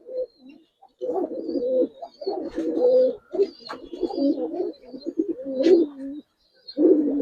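Pigeons coo in a series of soft, throaty rolling calls close by, coming in bursts separated by brief pauses, with faint chirps in the background and no talk.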